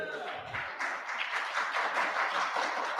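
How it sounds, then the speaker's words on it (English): Conference attendees returning from lunch at a cybersecurity ecosystem session applaud and cheer, a sustained moderate burst of clapping mixed with scattered whoops and voices. "And the crowd goes wild."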